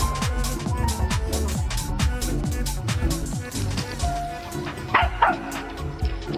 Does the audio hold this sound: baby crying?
no